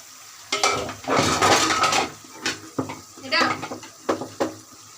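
Cut eggplant pieces tipped into a pan of dried fish being stir-fried with spices, with clattering of utensils against the pan, a brief sizzle and scraping bursts close by, and a voice talking over the cooking.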